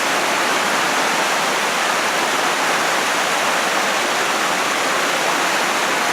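Potato River Falls pours in a continuous, dense roar of falling water, broad and steady throughout with no pauses.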